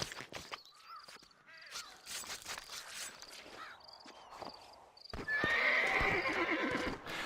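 A horse in the Red Dead Redemption video game neighs and whinnies repeatedly, with clip-clopping hooves, and the sound swells into a loud, sustained burst near the end.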